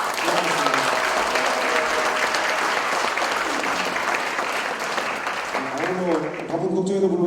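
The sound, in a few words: audience applause at a talk concert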